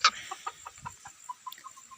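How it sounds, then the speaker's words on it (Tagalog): Chickens on a farm cluck in a quick series of short, sharp calls, one loud near squawk at the start, then steady softer clucks spaced through the rest. "Pwede kang mag-alaga ng manok."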